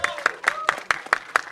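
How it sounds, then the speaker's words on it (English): An audience at a film press meet claps for actor Anil Kapoor, a brief burst of sharp, rhythmic handclaps from a small crowd. "Can we have a huge round of applause for Anil sir?"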